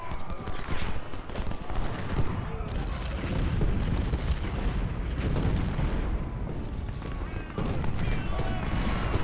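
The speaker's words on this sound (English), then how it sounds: "Cook is getting flanked by artillery fire." Artillery fire in the Civil War video game Ultimate General: Civil War, a dense, continuous battle din of booming cannon and crackling gunfire rolling on throughout with no pauses.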